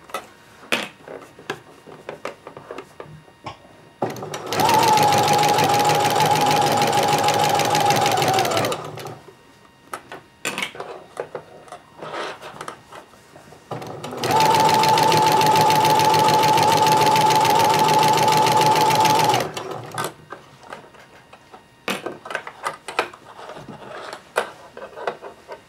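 Sewing machine stitching shorts in two long, loud, steady runs of rapid mechanical whirring, separated by quieter handling and fabric rustling.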